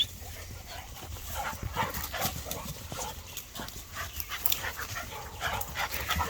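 Hunting dogs search excitedly for quail outdoors on a cool day after storms, their panting, sniffing and footfalls rustling through brush and whimpering faintly, close to the listener, with no talking.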